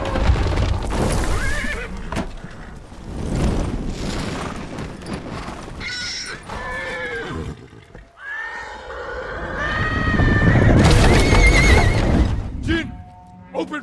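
Horses whinny and neigh loudly amid hooves and battle noise in Ghost of Tsushima, with shouting voices over the commotion, the sounds rising and falling in waves.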